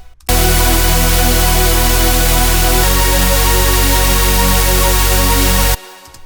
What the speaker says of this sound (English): all it is just basic sub bass